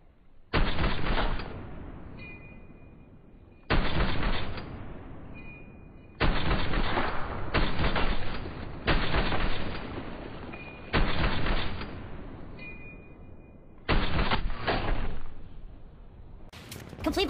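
In the Call of Duty video game, gunfire comes as about six separate sharp bursts of shots, each followed by a fading tail, spaced a few seconds apart with short quiet gaps between.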